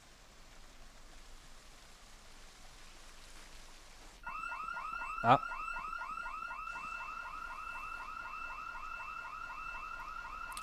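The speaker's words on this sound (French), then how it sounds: "C'est que notre deuxième alarme, donc c'est pas grave." A car alarm goes off in Project Zomboid, a rising and falling electronic siren that starts suddenly partway through and keeps wailing over light rain, with a brief exclamation from a voice.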